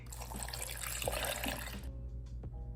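Water pours into a container holding paper for papermaking, a steady splashing trickle that stops abruptly after about two seconds, followed by a faint drip or clink in a quiet room.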